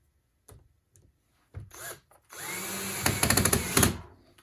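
A power drill driving screws into a pottery tool setup, short whirring bursts building to a sustained, close, loud run of a couple of seconds before winding down.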